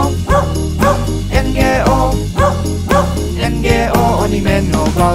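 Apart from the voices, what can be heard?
dog barking in a children's song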